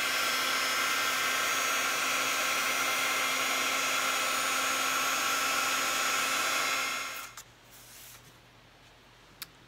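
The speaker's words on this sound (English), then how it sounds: "So now I'm gonna take my heat tool" A heat embossing tool blows hot air over metallic bronze embossing powder on a bunny card, a steady loud whooshing hiss that runs for about seven seconds and then cuts off, leaving a faint click or two afterward.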